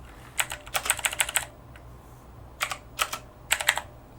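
Keys tapped on an Amiga computer keyboard, with quick bursts of clicky keystrokes followed by a few isolated presses, close and fairly quiet over low background hum.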